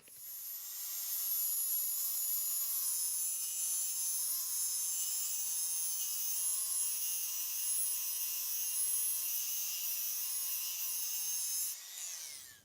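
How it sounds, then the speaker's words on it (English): Blades being ground back to balance them give a steady, high-pitched grinding whine that holds evenly for about twelve seconds, close and loud, then cuts off. No one speaks. "So what I'll do is I'll mark blade 1 and blade 3 and grind them back to match that smaller blade 2"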